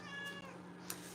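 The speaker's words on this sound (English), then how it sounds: "if she's sitting there meowing and meowing at you" A house cat gives a drawn-out, wavering meow close by, followed by a brief soft rustle in a quiet indoor room.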